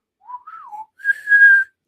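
A short, clear whistled melody from a spaghetti Western film score: a few rising and falling notes, then a longer held high tone, alone and close.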